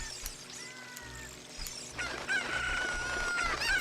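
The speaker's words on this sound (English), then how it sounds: "For some reason I struggle picking up the chicken sometime" A chicken in Zelda Ocarina of Time gives a crowing call followed by sustained, high clucking squawks, loud and close, mixed with game music and chimes, with no talking.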